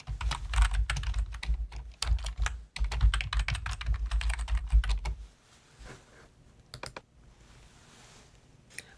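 Fast, dense keystrokes on a computer keyboard clatter in bursts while search words are typed into a library database, then give way to a few scattered clicks and quiet.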